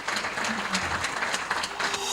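At a felicitation ceremony for UPSC achievers at King Makers Academy, an audience claps steadily, with close, dense applause throughout and a voice faintly audible underneath.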